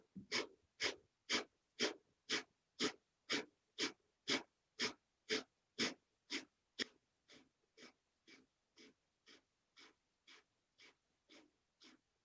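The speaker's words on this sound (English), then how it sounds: "Long, deep breaths or breath of fire." Breath of fire during a yoga session: a steady run of about twenty quick, forceful nasal exhales in even rhythm, close and strong at first, then softer and lighter toward the end, with no talking.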